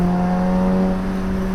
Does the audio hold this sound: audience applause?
no